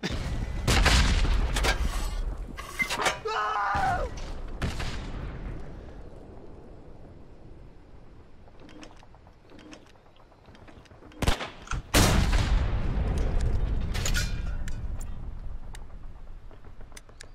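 Gunfire and explosions in the World War II shooter game Hell Let Loose during street-to-street fighting, with heavy booming blasts and bursts of shots at the start, a quieter lull, then more loud detonations near the end.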